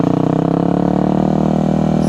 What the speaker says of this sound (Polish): Ta WR-ka pójdzie z dwójki z gazu.